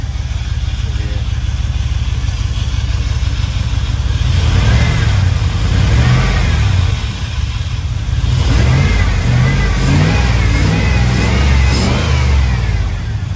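An old rock crawler Jeep engine, close and loud, running rough and unsteady with repeated revs rising and falling over a constant idle rumble, with a voice briefly heard underneath.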